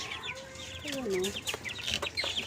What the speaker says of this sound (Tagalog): tapos may alaga akong manok